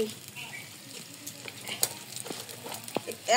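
Onions stirred and frying in a clay pot while pilaf is being cooked, a steady close sizzle with scraping spoon strokes and clinks, soft and continuous throughout.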